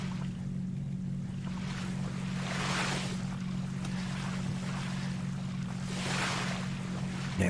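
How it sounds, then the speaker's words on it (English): Water and waves wash around a 400-foot yacht cruising in MS Yacht Simulator, a steady rushing bed with a low engine-like hum and two gentle swells of surf, with no talk. "the sound of the water is so soothing"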